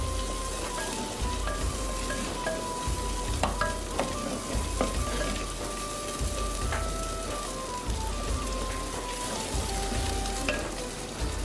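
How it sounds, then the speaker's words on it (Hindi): Finely chopped ginger fries in hot oil for matka biryani with a soft, steady sizzle and crackle. Occasional stirring scrapes and clinks sound close by in a quiet kitchen. "अदरक डालेंगे 3 टेबलस्पून बारीक कटा हुआ। इसे भी तकरीबन लाइट सा ब्राउन करेंगे।"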